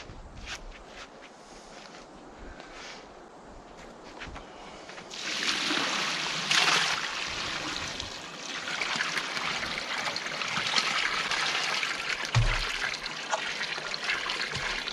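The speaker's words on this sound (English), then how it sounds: "Notice that the water's going into the catch basin." Running water trickles and then swells into a louder, steady rushing flow into a backyard catch basin, with scattered knocks and shuffles nearby; no one speaks.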